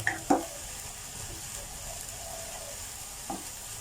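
Chilies sizzle in a pan with minced chicken breast and salted egg yolk while being stir-fried, a steady soft hiss broken by a couple of sharp clinks of a utensil against the pan, heard up close with no talking.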